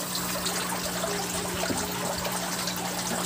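Water trickles and pours steadily as the level is lowered in a crayfish tank holding young crayfish, a constant close wash with a low steady hum underneath and no talk.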